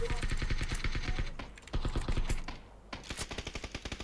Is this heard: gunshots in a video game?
yes